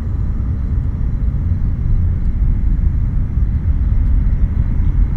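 A Dragon spacecraft's launch rocket climbs after liftoff, giving a continuous heavy low rumble with a steady roar, loud and unbroken, with no voices.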